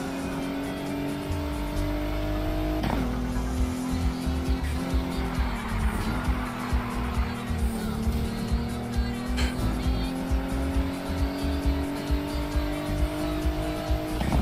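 A race car engine in Need for Speed Heat revs loud and continuous, its pitch shifting through gear changes, while tires squeal and skid through corners on a circuit race.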